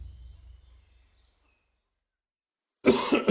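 A single harsh cough bursts out close and loud at the end, after a faint fading hum and near silence.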